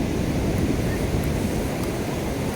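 Surf rolling in at Udupi beach, a steady broadband wash of waves with wind noise across the microphone, continuous and fairly loud with no voices.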